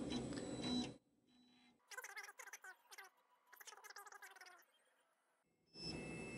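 A Solidoodle 3 3D printer prints, with bursts of noisy motor hum at the start and end and, between them, quiet stepper motors chirping and warbling in quick rhythmic runs.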